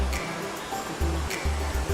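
Sarang Walet waterfall in Kembang Kuning village, East Lombok, a steady rushing roar of falling water heard up close outdoors, with low rumbling bursts of wind or handling noise.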